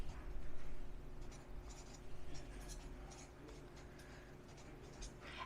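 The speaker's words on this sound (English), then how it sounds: "So I'm going to write down scripture morning routine" Pen strokes on paper while a homeschool morning routine is written out, soft scratchy marks coming in scattered short bursts, close but quiet over a low room hum.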